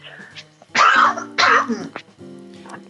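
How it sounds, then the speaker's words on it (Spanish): Two explosive sneeze bursts from an adult come in quick succession, loud and close, with a quiet room and faint steady hum around them. "Perdón, voy a estornudar."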